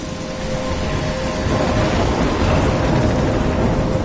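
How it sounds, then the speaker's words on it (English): Thunderstorm with steady heavy rain in a PS4 video game, a dense continuous roar of rainfall under a low rumbling swell of thunder, loud and enveloping with no talk. "I'm trapped in a storm?"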